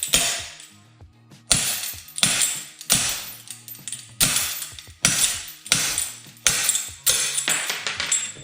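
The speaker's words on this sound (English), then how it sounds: "Simulating the slide hammer." A hammer strikes a crowbar used as an improvised slide hammer while rebuilding a BMW 550i engine, sharp metallic strikes ringing out about eight times in a steady rhythm, each a bright clanking impact with short ringing decay, close and loud.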